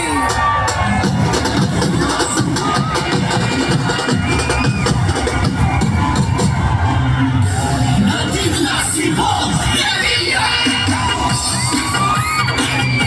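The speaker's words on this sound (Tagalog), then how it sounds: "Isang malakas na sigawan para kay Abby Binay!" A big rally crowd in Mandaluyong City cheers, whoops and shouts continuously at full volume, with yells and scattered bangs over a dense roar, and a voice calling out through it.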